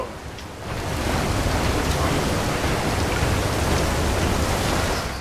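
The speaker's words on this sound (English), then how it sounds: "the storm gonna tear this boat apart." A video game thunderstorm at sea, with a boat caught in it: steady, loud broadband rain hiss that swells after the first half second and holds, with low rumbling underneath and no speech.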